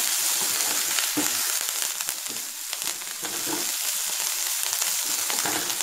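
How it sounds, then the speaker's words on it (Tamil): Vatha narayanan keerai greens sautéing in sesame oil, a loud, steady, close sizzle that crackles continuously with a few faint stirring touches and no voices. "இந்த நல்லெண்ணெயோடு இந்த கீரை வந்து வதங்கும் போது"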